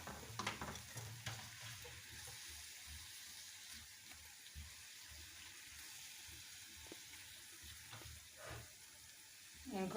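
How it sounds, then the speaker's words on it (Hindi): Spoon stirring a date and jaggery chutney in a pan, soft scraping and bubbling sizzle over steady cooking noise, with occasional louder clinks near the start and end. "खजूर की चटनी बन रही है, वो भी मैं चमचा चला रही हूँ साथ साथ"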